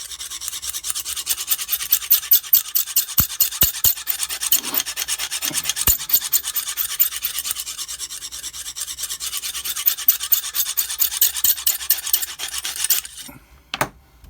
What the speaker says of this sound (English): then you turn the knife around and give it the same amount of strokes on the other side to get that burr away